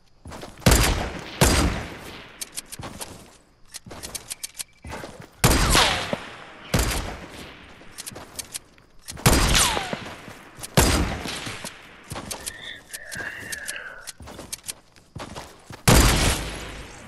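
Sniper rifle fire in a Fortnite match, sharp loud shots cracking out one at a time at irregular intervals, each with a short echoing tail, alongside a few smaller game sound effects.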